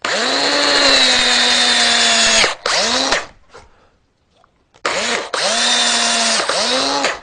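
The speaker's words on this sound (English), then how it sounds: "We then drill this in." A power drill whines steadily as it bores a pilot hole into wood, running in two long bursts with a brief pause and a short quiet gap between them.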